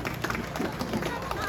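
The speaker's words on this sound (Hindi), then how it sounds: "कृपया उन सब के लिए जोरदार तालियों से" Applause from an audience at an outdoor Independence Day celebration in a residential block park, a dense, steady patter of many hands clapping with crowd murmur and voices mixed in.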